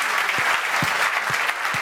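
An audience at a French IT services industry conference claps for award winners coming up on stage, dense steady applause filling the room.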